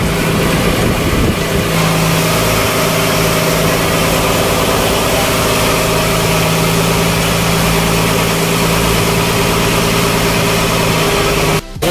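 An engine runs steadily for the whole stretch, a loud continuous idling drone with a constant low hum and no talk over it.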